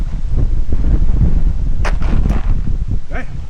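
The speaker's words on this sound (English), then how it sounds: "the wind's still blowing like crazy" Strong gusting wind roars steadily across an outdoor work area where old fence wood is being built into an 8-foot privacy wall, a dense low rumble buffeting the microphone throughout, with brief rustles and knocks near the end.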